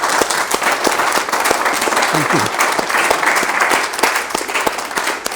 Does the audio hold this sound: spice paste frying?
no